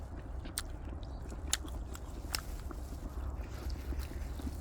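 A person chews meat at an outdoor meat feast, giving soft wet bites and a few sharp crunches that stand out now and then over steady low background rumble.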